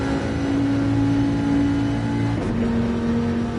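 A Ford Mustang race car engine in Gran Turismo 7, droning loudly and steadily at high revs, its pitch dropping at one point as the gear or throttle shifts, with no one talking.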